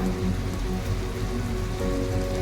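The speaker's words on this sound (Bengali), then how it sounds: "এখন আমি দেব টমেটো কুচি এবারে পড়ছে দেখ কারি পাতা" Curry leaves sizzle in hot oil with onion and chopped tomato, a loud, dense crackle that sounds like steady rain and stays constant throughout, with no talking.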